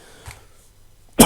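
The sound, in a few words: cough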